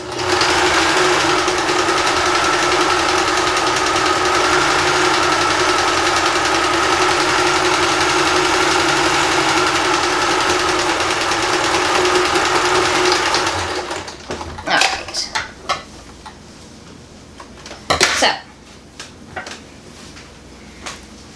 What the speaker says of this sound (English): I'm going to finish this off again with a satin stitch